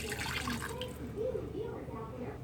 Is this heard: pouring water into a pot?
yes